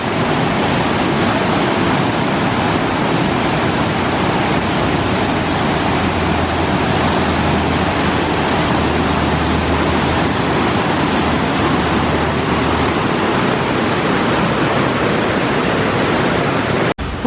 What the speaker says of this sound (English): There's even a little waterfall coming off the mountain feeding into here.